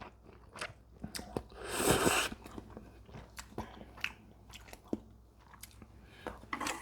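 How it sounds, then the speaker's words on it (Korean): Close, crunchy chewing and biting while eating Ottogi Ramen Bichaek kimchi-stew ramen heaped over rice, with a louder burst of crunching near the middle and brief clicks throughout, no talk. "진짜 오랜만에 밥 위에다가 라면 이렇게 올려서 먹는 것 같아요"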